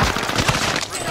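A burst of rapid automatic gunfire from a video game shooter crackles loudly and continuously for about a second, dense and harsh throughout.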